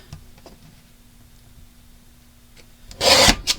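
Paper scraps are trimmed for a junk journal: faint light ticks and rustles lead up to one loud, close, brief rasping cut near the end.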